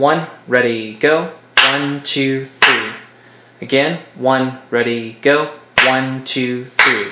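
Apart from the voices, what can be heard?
hand clapping a 3/8 rhythm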